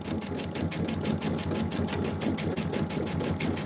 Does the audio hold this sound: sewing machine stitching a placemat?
yes